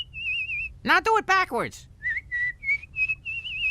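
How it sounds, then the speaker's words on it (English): Someone whistles a wavering high tune, alone at first, then a short spoken line breaks in before several brief whistled notes resume, rising in steps from an animated cartoon scene. "Seems like my no-talent son can suddenly whistle"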